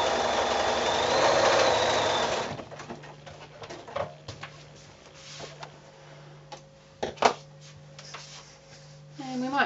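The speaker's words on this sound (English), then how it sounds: "sew another line of sewing straight down the middle there" A sewing machine stitches a line down a quilt strip for a wall hanging with a dense, steady mechanical run for the first couple of seconds, followed by scattered ticks and clicks of handling nearby.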